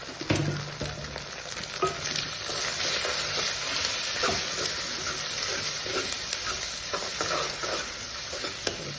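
Dried prawns and three eggs sizzle steadily in a hot pan, a continuous bright frying hiss with occasional stirring scrapes, close and fairly loud throughout with no talking.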